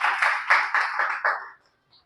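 Audience applause for someone speaker at a Vedic ashram gathering: a short burst of close group clapping that swells in rhythmic waves, then stops abruptly, with no voices over it.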